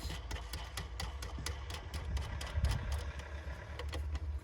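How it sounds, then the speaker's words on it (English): A diesel engine rumbles low and steady in the background, faint and distant, with scattered clicks and clatter over it and no talking. "You can probably hear a diesel in the background."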